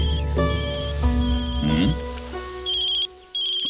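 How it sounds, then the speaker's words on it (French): A cartoon telephone ringing, bright electronic trill tones repeating in short bursts, mixed with rustling and musical sounds, loud and close. "Dojo, essaie d'appeler Maître Fong"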